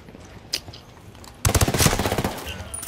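Gunfire in Tom Clancy's Ghost Recon Ghost War, starting with a lone distant shot and then a loud, close burst of rapid automatic fire, a fast rattling string of shots.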